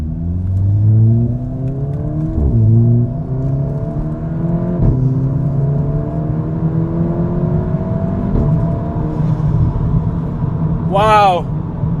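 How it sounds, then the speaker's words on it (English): A car with a flash-tuned transmission control unit is driven in manual mode, its engine rising and blipping through rev-matched downshifts in several swelling sweeps, close and loud inside the cabin, with a person talking over it. "The rev match part is really amazing right now."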